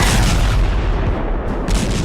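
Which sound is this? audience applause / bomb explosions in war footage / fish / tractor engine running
bomb explosions in war footage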